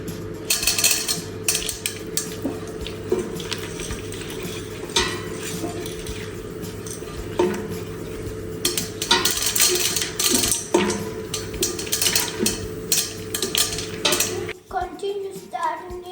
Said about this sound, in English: Continue stirring it as we add more kernels.